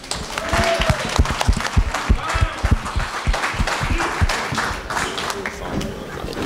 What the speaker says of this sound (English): give her a round of applause for Suzanne